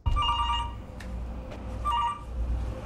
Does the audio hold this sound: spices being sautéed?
no